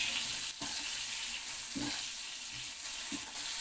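Brinjals sizzle in a pan for ulavacharu curry, a steady fry hiss broken by several brief scraping stirs, close and continuous.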